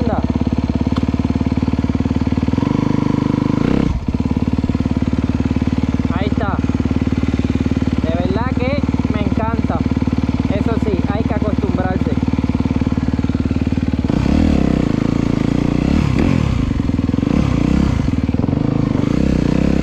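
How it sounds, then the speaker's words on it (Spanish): A motorcycle, newly finished with fresh suspension, idles with a steady low engine drone while gears clunk from neutral into first and second; mechanical clatter and scrapes come in bursts, and someone speaks at points over the engine. "Ahí la moto está en neutro. Vamos a poner segunda."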